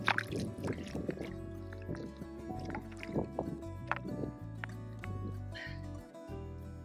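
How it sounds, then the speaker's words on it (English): Jasper agate rock being washed in river water at a riverside beach, a series of irregular splashes, drips and squishy wet knocks close to the microphone, with flowing water underneath. "I'm gonna wash it off because I'm right next to the river."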